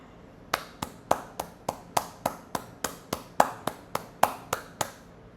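A single person's slow, steady clapping, about sixteen sharp claps at an even pace, fairly quiet and close, with no voices.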